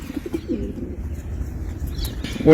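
Pigeons released into the open air, several birds cooing and fluttering close by in a steady low murmur, with a louder burst of movement at the very end.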